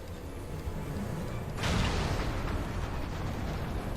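Explosions and cannon fire strike an airship in the Final Fantasy XIV: Stormblood video game, a sustained rumbling blast swelling loudly about midway and rolling on as a dense, continuous roar.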